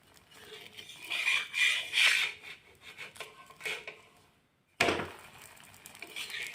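A lachha paratha is flipped and dry-roasted on a hot tawa over a low gas flame, giving soft rasping and scraping sounds, then a brief pause before a sharper burst of frying.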